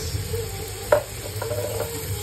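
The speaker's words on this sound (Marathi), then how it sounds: "आता हे पण ह्याच्यात घालून घेऊया आणि छान मसाला परतून घ्यायचा" Paneer masala is stirred and sautéed in a pan, giving a soft, steady low sizzle with one brief clink of a spoon against the pan, heard close and quiet.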